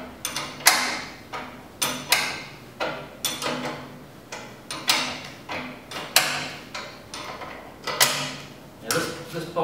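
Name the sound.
tightening bolt with 18 and 19mm ring spanner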